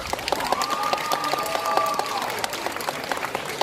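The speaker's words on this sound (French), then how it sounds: "Et on les applaudit bien fort!" A crowd applauds at a cosplay contest, with brisk clapping throughout and a sustained whistle-like tone gliding over it during the first couple of seconds.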